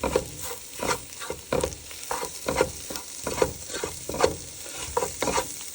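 Black pepper and dried thyme are stirred into a pan for an eggplant seafood cornbread dressing, with a steady run of scraping strokes about twice a second over a soft sizzle. It is close and clear, with no talking.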